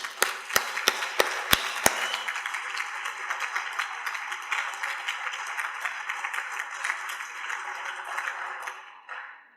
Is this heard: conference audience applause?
yes